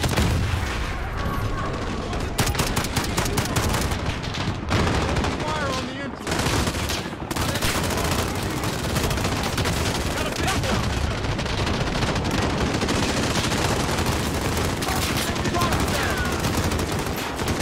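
Sustained loud gunfire in Call of Duty: Modern Warfare on PS4 mixes rapid machine-gun bursts with heavier shots and explosions in a dense, continuous battle soundscape.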